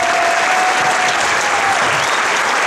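Spectators applaud in the stands at the opening of a youth sports tournament, a loud, steady wash of clapping from a large crowd that carries on without a break.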